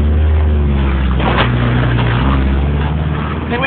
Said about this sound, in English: I'm killing the engine and coasting the rest of the way.